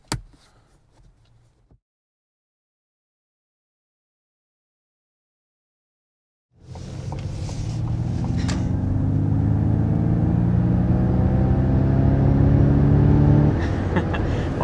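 After a few seconds of near silence, a 2021 Ford Mustang Mach-E electric SUV surges forward hard, its motor whine climbing steadily in pitch under rising road and wind roar, loud and sustained.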